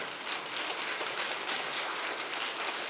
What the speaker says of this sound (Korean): 박수를 치려면 좀 잘 치든지